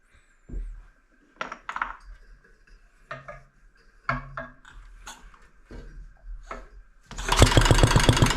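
A 1963 Briggs and Stratton model 14 small engine clatters through several short, uneven starting attempts, then catches and runs loud and rough over the last second.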